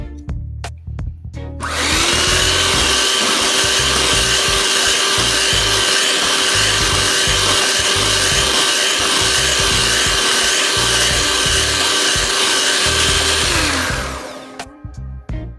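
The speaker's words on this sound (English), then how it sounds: "Now we're going to blend it until it's well combined." A blender runs steadily for about twelve seconds, loud and close, whirring through a Froot Loops ice cream mixture with a constant high motor drone that starts and stops abruptly.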